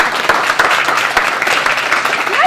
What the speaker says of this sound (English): One more round of applause for our outstanding full-time faculty.